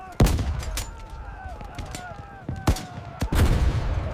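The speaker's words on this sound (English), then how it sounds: "A crescendo of cannon fire, a rolling thunder of battle." Tank battle cannon fire and gunfire: several sharp heavy blasts and bursts at irregular intervals, some loud and close, with rumbling echoes between them over a dramatic backdrop.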